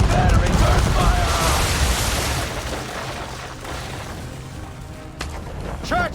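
Naval cannons boom between sailing ships in Assassin's Creed 3, a heavy fusillade up front that fades into rumbling, with a character shouting orders over the gunfire.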